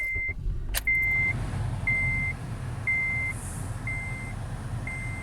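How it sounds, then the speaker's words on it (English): A warning chime in a Honda Odyssey RB1 being started sounds six short, evenly spaced electronic beeps about once per second, clear and moderately loud over a low engine and fan rumble. "Sorry about the beeping."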